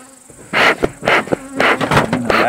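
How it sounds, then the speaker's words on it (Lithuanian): Honeybees buzz around during queen rearing at the hives, several loud passes swelling and fading near by, one after another, over a quiet background. "užpuolė bitės"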